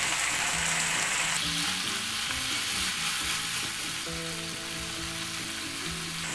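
Corned beef and a hotdog fry in a pan with a loud, constant sizzle, joined by occasional stirring and scraping sounds.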